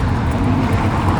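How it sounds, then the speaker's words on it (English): Steady low rumble of a passing vehicle on an early-morning road in Lincoln's Bailgate, loud and close, with no voices. "Apologies for the traffic."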